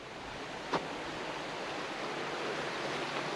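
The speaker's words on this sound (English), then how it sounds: "we're at the river." Steady, broad rushing of river water flowing fills the whole stretch at a constant, moderate level, with one brief faint tap early on and no talk.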